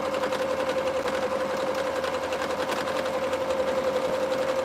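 A sewing machine stitches quilt pieces in a steady, continuous whir with a strong even hum, close and loud throughout with no talking.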